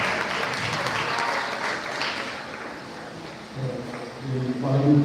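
Audience applause at an inter-tertiary debate competition award presentation, with dense clapping that thins midway while voices and sung or chanted tones rise near the end.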